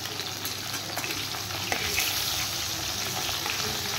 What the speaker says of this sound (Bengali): এবার কই মাছগুলো আমি একটু ভেজে নেব। এদিকে কড়াইয়ে তেলও গরম হয়ে গেছে।